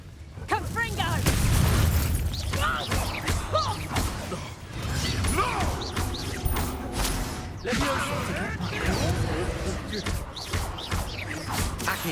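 Confringo explosive spell blasts in the Hogwarts Legacy video game go off amid a busy combat mix, with loud thuds and crashes repeating over the full stretch and voices shouting now and then.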